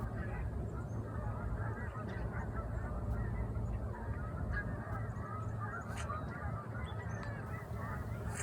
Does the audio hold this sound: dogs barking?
no